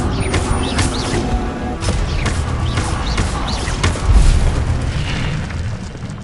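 In Hogwarts Legacy, repeated Incendio fire spells go off as a series of crackling whooshes and booming bursts, close and loud, with a heavier thump partway through.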